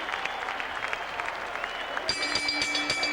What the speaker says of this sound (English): they both deserve a big round of applause for their effort